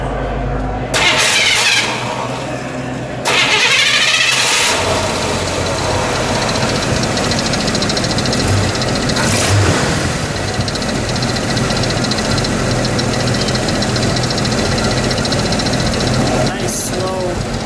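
A 1972 Buick GS Gran Sport Stage 1 455 V8 engine cranks and catches, then settles into a loud, rumbling idle that runs steadily throughout, with a few voices speaking over it.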